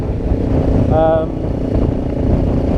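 A Honda Street Cub motorcycle on the move, its engine a steady close drone blended with heavy wind rush from riding, with a brief tonal whine partway through.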